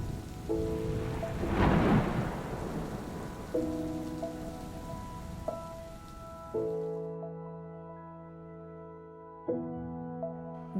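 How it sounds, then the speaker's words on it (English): Monsoon thunderstorm outdoors, with steady rain hissing and pattering while several deep thunder rumbles roll in at intervals, loud and close; a tonal musical background runs underneath. "And the storm rages outdoor."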